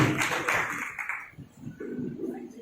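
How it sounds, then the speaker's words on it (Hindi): Audience applause welcoming a woman to the stage at a Ram Navami devotional lecture, a short burst of clapping that fades after about a second, followed by a voice speaking. "माता जी को जोरदार तालियों की गड़गड़ाहट से उनका स्वागत कीजिएगा।"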